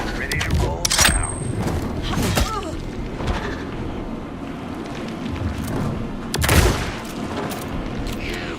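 Gunfire in Alan Wake 2: a few sharp shots and booms early and again later over a dark game soundscape, with voices talking in between.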